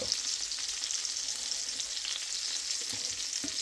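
Chicken fried cubed steak frying in a pan gives a steady, close, loud sizzle and crackle of hot oil with no pause, no talking, and a few faint pops.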